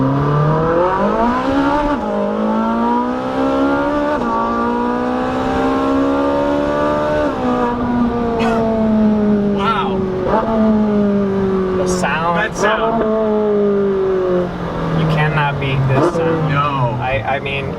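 A supercar engine with a double-clutch transmission revs and accelerates loudly and up close, pitch climbing through repeated gear changes with sharp shifts, while people talk over the roar.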